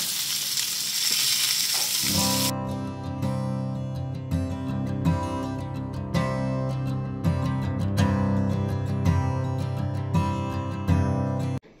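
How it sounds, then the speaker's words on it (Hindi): Pomfret fish frying in a pan for a Goan thali, with a steady, close sizzle and spatter running throughout and a tonal hum layered over it after the first two seconds. "हांगासर पळयात पापलेट दवरला फ्राय करपाक"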